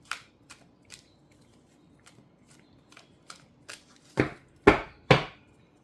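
Tarot cards being shuffled by hand: a string of soft, crisp riffles and taps, sparse at first, then three louder, sharper slaps near the end, with no talk.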